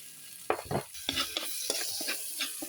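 Pepper and garlic sautéing in star margarine, a steady sizzle broken by several scraping stirs of the spoon across the pan, close up with no talking.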